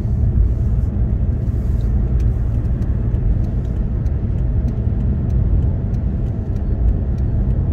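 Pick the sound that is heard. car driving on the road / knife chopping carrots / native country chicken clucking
car driving on the road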